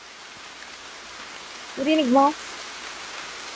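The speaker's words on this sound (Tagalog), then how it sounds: "Eto naman, umuulan." Steady soft patter of rain throughout, with a short spoken question rising briefly above it near the middle.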